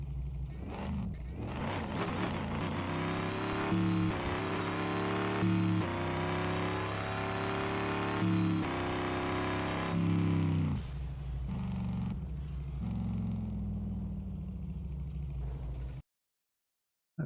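Truck engine droning loudly and steadily in the RevHead video game, its pitch rising and falling with revving and gear changes over several bursts, cutting off into silence near the end.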